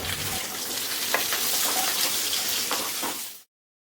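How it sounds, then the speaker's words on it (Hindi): Jackfruit pieces and chillies frying in oil over medium-low heat, giving a steady broadband sizzle with a few faint clinks. It runs alone with no voices and cuts off abruptly near the end. "अब हम इसमें कटहल ऐड कर लेंगे और कटहल को भी 2 से 3 मिनट के लिए फ्राई कर लेंगे।"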